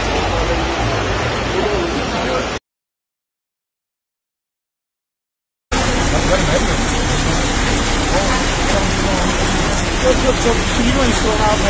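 Torrential rain and floodwater sweeping cars away in the Bigadiç district of Balıkesir, heard as a loud, constant broadband roar of rushing water and rain, broken by a few seconds of silence.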